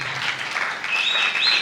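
A youth crowd at a church convention claps and cheers in praise of the Lord, a dense, steady wash of applause with bright whistles or shouts rising toward the end.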